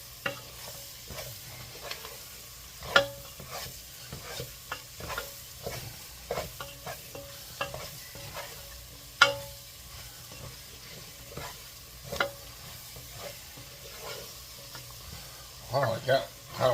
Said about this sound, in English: Now, this is the first sweating of our vegetables.